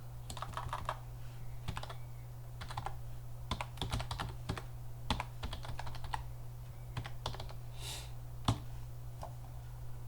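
Steady typing on a computer keyboard while a site name is entered, with irregular bursts of clicky keystrokes over a constant low electrical hum, close and moderately quiet.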